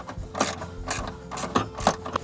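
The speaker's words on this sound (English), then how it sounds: "I'm going to go ahead and put these screws back in" Screws being driven back into the radio mount of a 1968 Cougar, four short ratcheting, rasping bursts in an even rhythm, close and moderately loud, with no talk.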